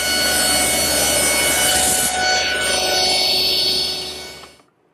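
A saw cuts across a roughly 4.5-inch-square wooden blank to square one end and bring it to length, a steady, loud rasping stroke that runs continuously for about four seconds and then fades out.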